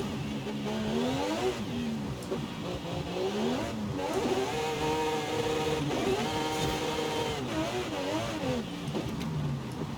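A turbocharged car in Forza Horizon 5 drifts on the No Hesi map, its engine revving up and down in repeated sweeping pitch rises and falls. The revs are loud and continuous, with a turbo whine over them.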